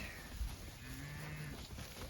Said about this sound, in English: We're doing a cow move to the next paddock.